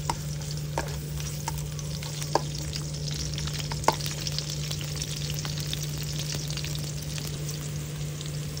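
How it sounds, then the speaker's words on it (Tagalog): Garlic sautéing in a pan, giving a steady close sizzle with a constant low hum and a few light clicks of a utensil against the pan. "maggigisa tayo ng bawang"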